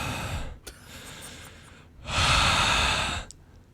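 A person breathing loudly into a microphone during the driving game Desert Bus, with a long exhale, a short pause, a sharp snort, then another heavy, rushing breath.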